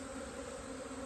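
Honeybees buzz steadily inside an open hive during beekeeping, a close, continuous drone with a few tonal bands and no pauses.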